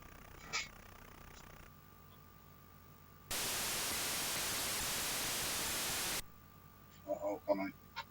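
Harsh broadband white noise from a Cassette 50 video game played on real hardware, a loud steady hiss lasting about three seconds that cuts in and out abruptly, with quieter hum and brief talk before and after.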